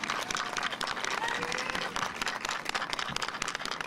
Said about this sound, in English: So I want to give an applause to Myra.